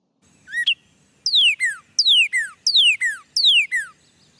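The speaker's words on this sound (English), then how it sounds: "I hope you were thinking, Robin." Robin song in a backyard pond setting: clear, high descending whistled phrases, one short note followed by four repeated bright phrases at a steady pace, close and alone over a quiet background.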